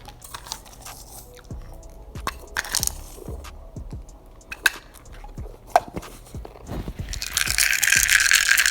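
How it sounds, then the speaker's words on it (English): Crunchy M&M's candy is chewed up close, giving irregular crisp crunches and bites that grow louder and denser toward the end, with no talking. "That's the sound of M&M's."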